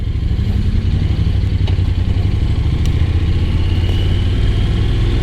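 Honda NC750X motorcycle engine idling nearby, a steady, loud low-pitched throb with an even pulsing rhythm and no revving.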